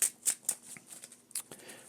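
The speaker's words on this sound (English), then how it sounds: "Let's shuffle this one up." A deck of cards for the Marvel Champions card game being shuffled, crisp riffling bursts close up in a quick uneven series of about five or six flicks.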